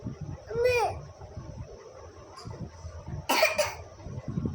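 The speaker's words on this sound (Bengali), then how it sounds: "অনেক কাশি হয়েছে না?" A child coughs in short harsh bursts, one early and another stronger pair later, close to the mic, with people talking in the background between them.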